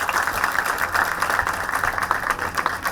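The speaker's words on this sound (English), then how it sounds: "Give him a big round of applause to Professor Kidwai" Audience applause for Professor Kidwai at an inaugural speech event in Aligarh, a steady wash of many hands clapping, moderately loud and sustained throughout with no talk.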